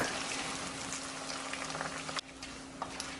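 Salted fish frying in hot oil, a steady dense crackling sizzle that runs unbroken and fairly quiet from start to end, with no one talking.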